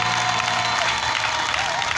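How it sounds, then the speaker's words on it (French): A congregation at an evangelism crusade in Guibéroua claps, making a dense, steady wash of applause that runs the whole stretch at even loudness, with a faint sustained tone beneath and no clear voices. "je voudrais qu'on acclame le Seigneur plus que ça."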